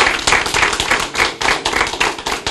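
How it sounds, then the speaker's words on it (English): Audience at a county family planning event breaks into steady, dense applause, many hands clapping close and loud with no talk over it. "Can we give him a round of applause?"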